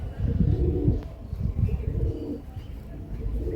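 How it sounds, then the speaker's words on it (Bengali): A pair of Kaldum pigeons at a pigeon house cooing close by, soft low repeated coos with a few chirps over a murmuring background. "এই এক জোড়াটা দিলাম হচ্ছে কালডুম পায়রা আছে"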